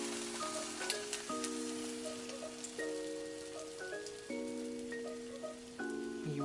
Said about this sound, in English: Now we're ready to add our eggs.